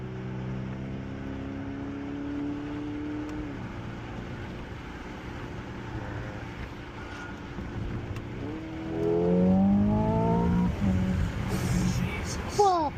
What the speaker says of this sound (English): I love the exhaust.